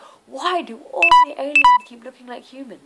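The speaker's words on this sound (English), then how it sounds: "sorry about that beep. That was just my phone." A mobile phone gives two short electronic beeps in quick succession, sounding over a man's ongoing speech.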